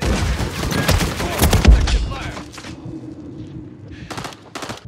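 Rapid automatic gunfire and bursts from a Call of Duty Modern Warfare 3 multiplayer match, loud and dense through the first half, then easing to scattered shots over a lingering rumble, with faint game voices.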